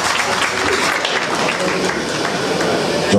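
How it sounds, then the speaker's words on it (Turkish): Audience applause fills a Turkish autism-awareness evening concert hall, a dense, steady wash of many hands clapping at full volume for the whole stretch, with no let-up. "Bir alkış alabilir miyiz?"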